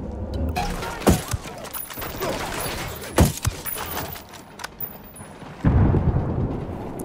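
Gunfire and an explosion in the tactical shooter game Ghost Recon Wildlands: a few sharp loud shots punctuate a busy, crackling battle, followed by a heavy booming blast near the end.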